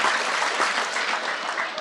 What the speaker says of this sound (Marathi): त्यांच्यासाठी जोरदार टाळी वाजवा.